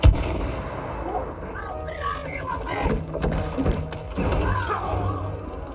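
Gunfire from a player character in It Takes Two cracks out in a string of sharp, close shots over busy game effects, with a voice talking briefly.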